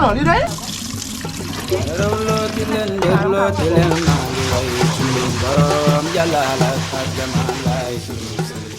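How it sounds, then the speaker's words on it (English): Broken rice, a mix of long grains, is washed by hand in water, scrambled and sloshed with continuous splashing and trickling while people talk over it. "So this is some amazing skills to wash the rice, making sure that all the white is gone."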